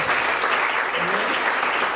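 Audience applause at a Bible quiz contest, dense and continuous clapping from a crowd filling the whole moment at a steady, fairly loud level.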